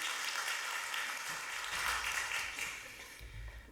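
A church congregation at a Sunday daytime worship service gives a sustained, fairly faint wash of applause that swells and eases over its length.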